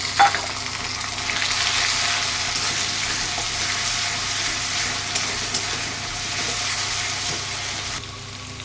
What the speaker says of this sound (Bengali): পেঁয়াজটা এবার আমি লাল লাল করে ভাজবো